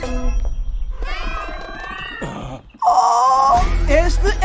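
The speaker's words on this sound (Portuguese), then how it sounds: "Miau." A cartoon cat meows with a drawn-out voiced cry from a Portuguese-dubbed animated film, rising loud and close with layered soundtrack audio around it.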